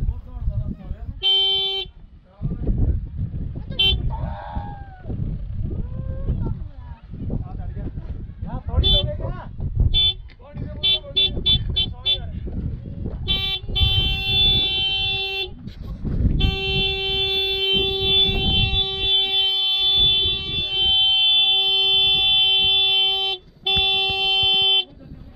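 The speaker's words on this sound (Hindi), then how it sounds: "हमें हॉर्न बजाना है बाइक का।" A motorcycle horn on a Kawasaki Ninja 1000 honks repeatedly in short and long blasts, loud and close, with children's voices chattering and laughing between and under the honks.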